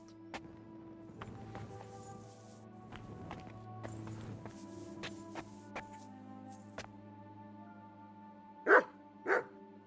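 In the medieval game Kingdom Come: Deliverance II, a dog gives two sharp, close barks in quick succession near the end, after soft footsteps and sustained ambient musical tones.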